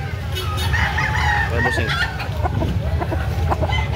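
A rooster at a gamefowl market in Carbon, Cebu City clucks and gives a short crowing call, close and fairly loud over background crowd noise, with a brief voice speaking.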